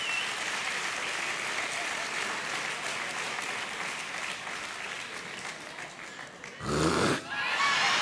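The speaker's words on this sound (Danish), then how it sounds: "jeg vil ikke have det der klapperi" An audience claps and applauds, a dense, steady patter of many hands at moderate distance that runs on unbroken, then a short, louder burst of close, breathy noise just before the end.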